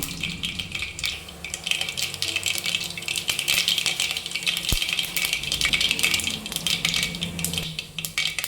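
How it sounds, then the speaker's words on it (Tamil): Mustard seeds sputter and pop in hot oil in a pan, a dense, steady crackle of tiny bursts with a few sharper ticks, as the base for a mutton kuzhambu is started. "கடுகு நல்லா பொரியட்டும்."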